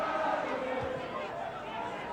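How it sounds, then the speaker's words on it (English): Football crowd at a Swansea ground during a Wales versus Iceland match, a steady, loud roar of massed voices and chatter filling the stadium as a throw-in is taken, with commentary-like speech over it. "The Swansea crowd really making their presence felt here as Edvaldsen takes this throw."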